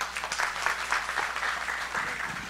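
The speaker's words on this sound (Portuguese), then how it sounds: "Uma salva de palmas." Audience applause at a Brazilian symposium on constructed wetlands, a dense steady burst of many hands clapping in a hall, sustained and moderately loud throughout with no talk over it.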